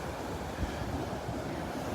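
Ocean waves wash and break steadily on Delnor-Wiggins beach, a continuous broadband rush with wind noise buffeting the microphone throughout, no voices.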